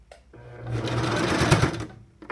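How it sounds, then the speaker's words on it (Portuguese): A sewing machine stitches along the folded edge of a strap for a men's toiletry bag, a close steady motor whir with rapid needle clatter that builds for about two seconds and then stops, with no speech. "vamos passando a costura"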